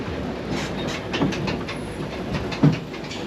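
Tour tram at a NASA space center rolling on wheels with rhythmic clicks and low rumble, a couple of soft thumps as it slows, steady and moderately close with no voices.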